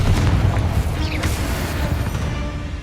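Confringo, an explosive fire spell cast in the video game Hogwarts Legacy, lands as a loud, deep boom, then a rumbling blast that stays dense and heavy for nearly three seconds and fades slightly at the end.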